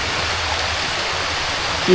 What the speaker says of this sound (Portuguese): E dá-lhe chuva, gente, dá-lhe chuva.